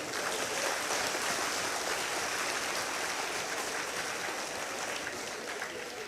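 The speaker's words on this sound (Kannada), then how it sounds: "ಎಲ್ಲರೂ ಸೇರಿ ಚಪ್ಪಾಳೆ ಸರ್" An audience at a Kannada comedy show by Benni Basavaraj claps together in steady, dense applause that stays even throughout, a broad wash of many hands without breaks.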